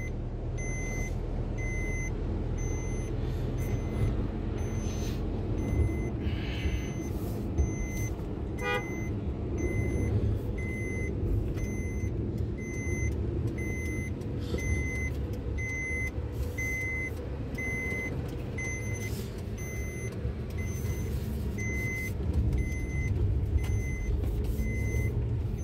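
Steady cabin rumble of a Maruti Suzuki Alto 800 BS6 car driving in traffic. Repeated electronic beeps, a few short horn toots and a continuous low engine drone are heard, with no speech.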